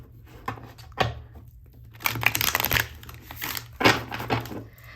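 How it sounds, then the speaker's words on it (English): A hard-to-handle deck of tarot-style cards being shuffled close up in bursts of riffling and crisp slapping, with short pauses between passes and no talking. "These cards are so hard to shuffle."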